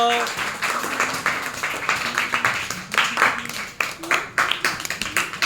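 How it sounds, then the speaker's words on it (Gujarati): A classroom of students applauding to welcome a classmate, a dense, lively patter of many hands clapping at close range, with a voice speaking over it. "ચલો ને જોરદાર તાળીઓના ગડગડાટથી વધાવી લો"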